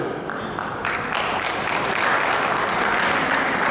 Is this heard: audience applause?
yes